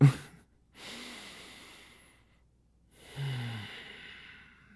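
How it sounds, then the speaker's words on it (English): Slow, deep breaths in a breathing exercise: a sharp intake at the start, then two long, airy breaths separated by silence, close and clearly audible. "You got to breathe through it. Let's breathe right now."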